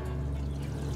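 Grey water from an RV sewage hose leaking out in a steady, continuous pouring trickle, fairly quiet and with no voices over it.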